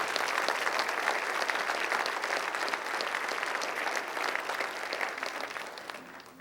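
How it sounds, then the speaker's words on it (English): Audience at the 2007 Hawthorne State of the City address applauds standing Hawthorne police officers, a steady, full round of clapping that tapers slightly toward the end. "Let's give them the deserved round of applause they deserve."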